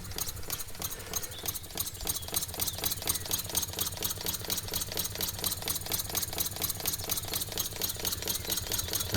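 A wig-wag V8 oscillating wobbler steam air engine with eight cylinders runs fast and steady, a dense, even rapid chuffing and rattling that holds throughout at close range.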